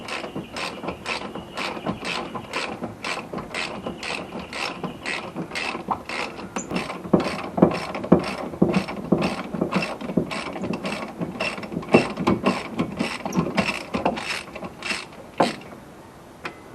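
Steady rapid clicking of a ratchet wrench loosening the brake caliper bolts on a Ford Territory during a front wheel bearing job, close and repetitive with brief pauses, no talking.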